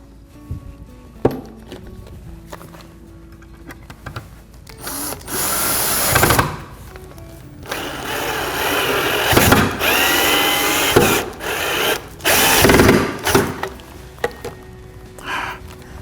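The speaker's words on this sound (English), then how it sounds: "now I'm going to put that screw in" Power drill whines in several bursts, driving a screw into a wooden leg of a sculptured rocker, with the pitch rising and falling as it starts and stops, loud and close in a workshop.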